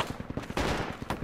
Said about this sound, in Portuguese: Parece que estão atirando aqui também.